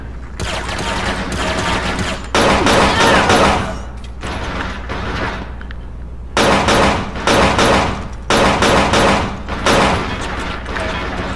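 Heavy gunfire from the Xbox shooter Combat Task Force 121, loud sustained bursts of rapid shots in several waves with brief lulls between them, no voice over it.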